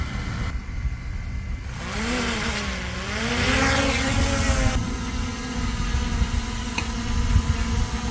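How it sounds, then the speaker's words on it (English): A DJI Mini 3 drone spins up its propellers and lifts off, the motor whine rising and bending in pitch before settling into a steady close buzz that holds through the rest of the clip. "Starting the propellers, and then just press the launch button."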